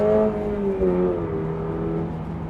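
A 2023 Subaru BRZ sports car engine revs and settles into a throaty hum, the pitch easing downward as it runs, fairly close and steady.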